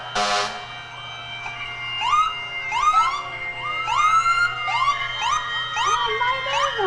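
An ambulance siren wails at a St. Patrick's Day parade, rising and falling repeatedly, fairly close and steady, with a brief loud burst at the start and traffic rumble underneath.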